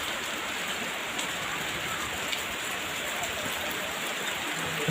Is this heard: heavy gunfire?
no